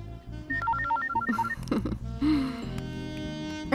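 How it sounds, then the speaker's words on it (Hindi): A telephone rings in a repeated electronic melodic pattern over a background music score in a Hindi film scene, fairly loud and with no speech. "ये तीनों नंबर तो मैंने सिर्फ डॉक्टर माथुर को दिए थे, उसी का फोन होगा।"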